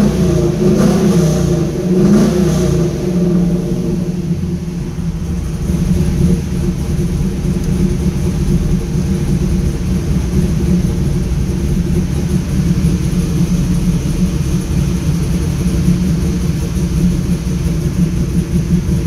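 A 2002 Pontiac WS6 warming up with exhaust routed through the mufflers, a loud, steady low engine rumble with a faint lope, holding an even idle close by for the whole stretch.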